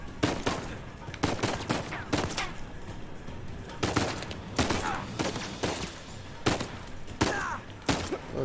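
Gunfire from the Uncharted 4 video game comes as sharp, loud shots and short bursts at irregular intervals. Quieter ambience fills the gaps between them.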